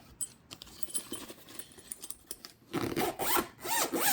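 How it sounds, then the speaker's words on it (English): Zipper on an AEG tool bag from an 18V Fusion kit, pulled in a series of short rasping strokes that grow louder and denser toward the end, heard alone and close. "This is a zip."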